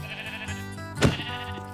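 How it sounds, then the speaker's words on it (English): A sheep in a video game lets out one short, close bleat, with a soft game backdrop behind it and no talking. "There's some sheep over there."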